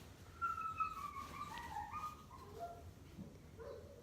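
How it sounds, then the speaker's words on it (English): A dog upstairs in a house, barking or crying at another dog, giving thin, wavering whines and whimpers that rise and fall, faint and distant over a steady background hum, with no talking. "He is barking at my other dog, or crying."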